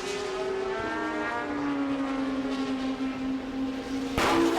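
Toyota and Audi endurance race cars at Circuit of the Americas, a loud engine note that holds and then drops in pitch as a car passes, ending in a sharp burst of noise.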